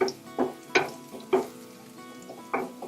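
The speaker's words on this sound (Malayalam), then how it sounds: "ഇത് നന്നായിട്ടൊന്ന് മൂക്കുന്നത് വരെ ഇളക്കി കൊടുക്കാം." Crushed ginger and garlic fry in a pan on the stove while being stirred, giving a steady close sizzle broken by several sharp scraping strokes of the spoon at irregular intervals.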